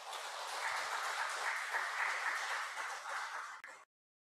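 A church congregation at a Sunday service applauds to welcome a newcomer, steady dense clapping from many hands that runs for several seconds before stopping abruptly.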